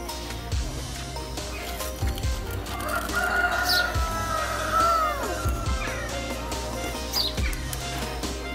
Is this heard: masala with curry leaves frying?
no